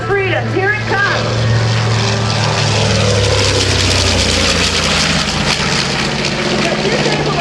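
A B-25 Mitchell propeller bomber passes at an airshow at Dover AFB, its radial engines a loud, steady broadband roar that builds and holds, while an announcer talks over it.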